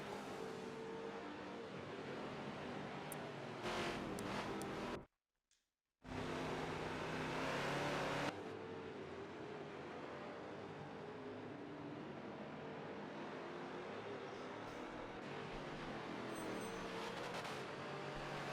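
Touring cars race around a circuit in a video game, engines roaring loudly and steadily past tire barriers, with a brief cut to silence partway through before the engine noise resumes.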